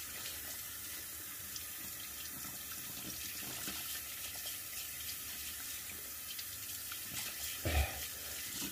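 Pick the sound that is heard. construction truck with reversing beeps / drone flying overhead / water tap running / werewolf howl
water tap running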